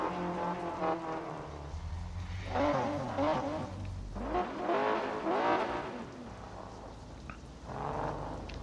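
An Aston Martin Valhalla concept racing in the mobile game NFS No Limits, its engine revving up and down in sweeping pitch through gear changes, fairly quiet and steady with no voices.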